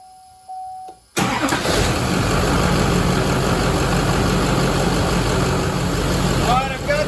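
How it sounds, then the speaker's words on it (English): A 2007 Chevy engine cranks for about a second, then fires and keeps running loud and steady up close, with a few faint words near the end. "Start it up and turn the AC on."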